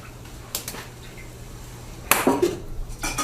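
An old country-style frying pan is handled, giving a couple of sharp metallic clanks and knocks, one light early and a louder cluster later, over a quiet room.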